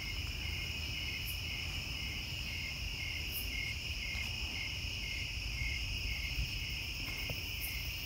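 A continuous high buzz of cicadas drones from the trees in Ohio, steady and unbroken, with faint pulsing in the tone and no voices.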